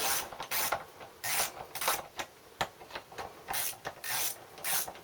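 A ratchet wrench working loose the bolts on an old Honda water pump, in repeated scraping, clicking bursts of steady rhythm, close and fairly loud.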